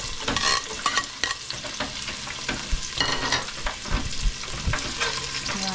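Garlic sautéing in a pan for macaroni soup, a steady loud sizzle and crackle with occasional stirring scrapes throughout, no voices.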